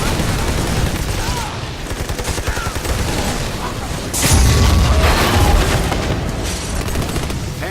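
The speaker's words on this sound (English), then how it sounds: "The game is full of explosions" Gunfire and explosions from the video game Army of Two: The Devil's Cartel crackle in rapid bursts, with a heavy booming blast around the middle and continuous loud combat noise throughout.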